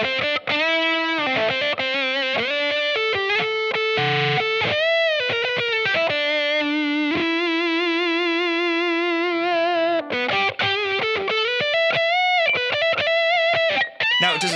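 Electric guitar run through a wah pedal parked in one position for a rounder, neck-pickup-like tone, playing a sustained distorted passage of chords and melodic single notes with a touch of reverb, loud and steady throughout.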